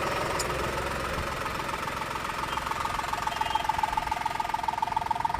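A Maruti Suzuki Wagon R CNG car engine runs at idle after 53,000 km, a close, steady mechanical hum with a rapid rhythmic ticking pulse and a faint whine that grows slightly more pronounced toward the end.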